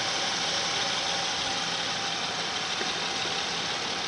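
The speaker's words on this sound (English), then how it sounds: "You can hear that engine is just extremely quiet." A 2007 Honda Ridgeline engine idles quietly and steadily, a soft even hum with a faint hiss and no talk over it for about four seconds.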